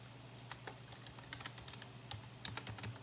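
Someone types a password on a computer keyboard while installing Ubuntu 22.04 on a home lab machine, a quiet, irregular run of light key clicks over a faint low hum.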